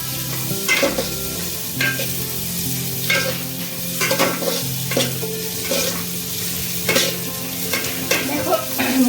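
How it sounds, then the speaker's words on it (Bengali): Ingredients lightly frying in a pan until just reddened, ahead of adding Gobindobhog rice, with a steady sizzle broken by repeated scraping stirs of a spoon at a moderate, near level. "এবার এটাকে দিয়ে একটুখানি হালকা করে একটু লাল করে ভাজবো"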